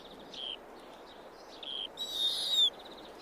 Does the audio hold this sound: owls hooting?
yes